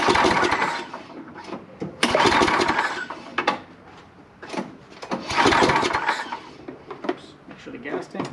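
A Toro snow blower engine is pull-started with the choke on, giving bursts of recoil cranking that rise, fall and repeat without catching, under someone talking.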